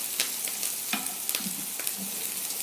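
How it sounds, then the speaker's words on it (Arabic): Onion, carrot and pepper stir-fried briefly over high heat for a Cantonese-style chicken dish, giving a steady close sizzle broken by repeated sharp scraping and tossing clicks, with no talking. "البصل مش مستوي قوي، الجزر برضو نفس الموضوع، الفلفل، فهما بس بياخدوها تشويحة كده"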